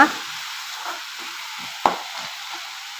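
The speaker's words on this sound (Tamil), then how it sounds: "இது நல்லா வதங்கி வரட்டம்மா" Sliced onions with a little salt fry in a pan, giving a steady, soft sizzle close by with a couple of sharp stirring clicks.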